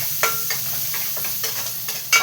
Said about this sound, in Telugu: చూసారా, వెల్లుల్లిపాయ వేయాలి.